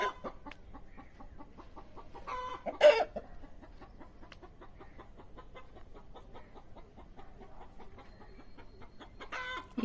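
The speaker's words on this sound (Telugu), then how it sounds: "ఇదిగోండి ఈ కోళ్ళు. ఇవన్నీ బెరసు కోళ్ళే అండి." A flock of village chickens clucks softly and steadily close by, with one louder squawk partway through.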